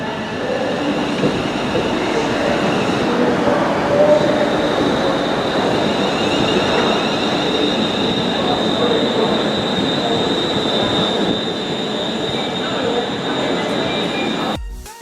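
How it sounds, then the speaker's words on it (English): A London Northwestern Railway passenger train at Crewe Station rumbles steadily close by with metallic wheel squeal and rail noise, loud and continuous throughout, ending abruptly. "So the 10:59 should be arriving now, London Northwestern Railway service, to take us to Winsford."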